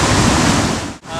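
Rushing water pours over rock at Paathanpara, a small hidden waterfall in Kerala, as a steady broadband roar close by with no voices over it and a brief dip near the end.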